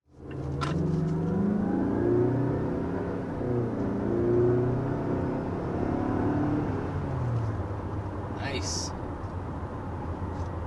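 Mazda CX-5 with a 2.5-liter turbocharged four-cylinder accelerating hard, heard from inside the car as a rising engine drone and road noise that climbs through the gears, with people talking over it.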